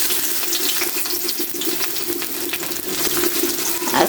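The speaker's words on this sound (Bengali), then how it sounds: "অলরেডি আমার তেলটা গরম হয়ে গেছে। আমি দিয়ে দিচ্ছি পেঁয়াজ" Chopped onion drops into hot mustard oil and fries with a dense, steady crackling sizzle. The sound is loud and close and runs throughout with no break.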